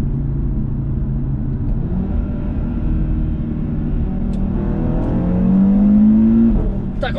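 An Audi S3 five-cylinder turbo engine accelerates from the cabin, a steady droning rumble rising in pitch as it pulls harder toward the end.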